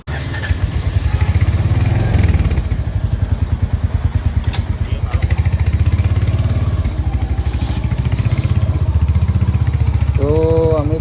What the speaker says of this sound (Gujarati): તો અમે બાઇક લઈને નીકળી ગયા છીએ આંટો મારવા જસ્ટ